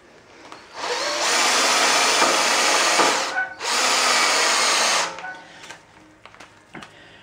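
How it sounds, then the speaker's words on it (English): An electric drill whines loudly in two sustained bursts, briefly pausing between them, followed by quieter handling clicks. "Now I just need to drill a hole."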